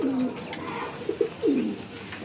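A pigeon coos nearby, several soft low warbling calls spaced over a couple of seconds against a faint background hum.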